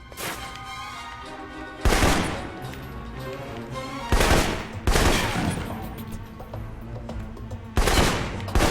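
Assault rifle fire in the video game Alpha Protocol, with loud bursts of gunshots at about 2, 4, 5 and 8 seconds over a steady rumble of battle ambience.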